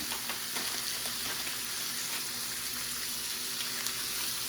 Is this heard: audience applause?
no